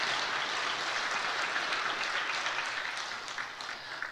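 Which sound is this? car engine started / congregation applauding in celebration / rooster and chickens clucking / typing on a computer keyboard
congregation applauding in celebration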